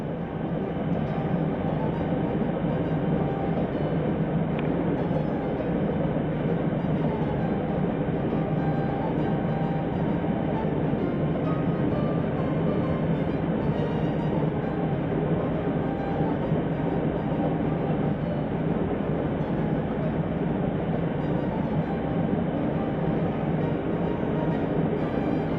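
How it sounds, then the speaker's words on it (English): A long freight train of 116 trucks rolls past, a continuous heavy rumble with clattering wheels that stays loud and steady throughout, no voices. "That's what you call a train."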